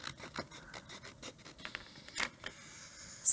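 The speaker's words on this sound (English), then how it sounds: "And then I can just use my scissors to trim this side." Crafting scissors trimming adhesive vinyl for a Cricut welcome sign, producing quiet, close snips and light scraping cuts in an uneven rhythm.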